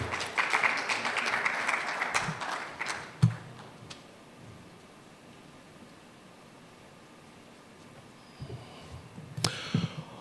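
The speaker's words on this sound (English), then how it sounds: "let's appreciate him with a bigger round of applause" An audience at an architects' annual general meeting claps for the president in a fairly distant burst of applause that fades out, leaving quiet room noise before a few scattered sounds and a brief clatter near the end.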